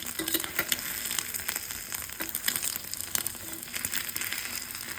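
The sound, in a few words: egg frying in a small pan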